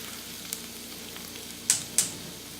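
A roux of butter and flour cooking over medium heat in a pan, a soft steady sizzle with a couple of sharp scraping clicks from a whisk, close and fairly quiet with no talking.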